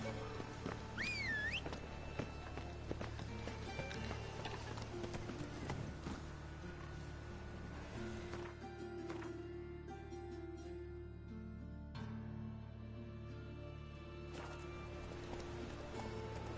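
Roach the horse gallops in a video game, with steady rhythmic clip-clop hoofbeats close by and a brief whinny near the start, while soft game ambience sits underneath.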